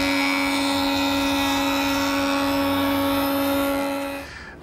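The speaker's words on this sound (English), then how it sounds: "one cleanup pass at the joiner on that freshly sawn edge" A jointer taking a single cleanup pass along the freshly sawn edge of a wooden slat blank, a loud steady whining hum with strong tonal pitch that runs for about four seconds and then spins down.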